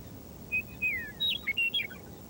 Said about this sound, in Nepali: यो चराको सुरिलो गीत जतासुकै सुन्न पाइन्छ।